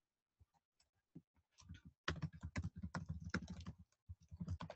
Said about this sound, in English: I'm going to type it in for you here in the chat box.